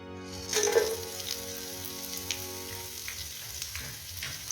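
Whole spices (cumin, cinnamon, cloves, black peppercorns, green cardamom) and a medium onion hit hot oil for yakhni pulao, bursting into a loud sizzle that settles into a steady, softer crackling fry, with no voices.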